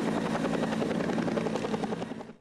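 A helicopter flying low over the city centre of Bursa, a loud continuous rotor thump and engine roar that holds steady, then begins to fade at the end, with no voices.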